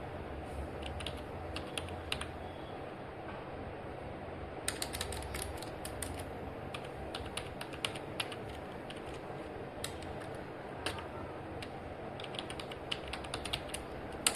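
Quiet, steady clicking of a computer keyboard as someone types, with soft keystrokes coming in irregular runs and no talking.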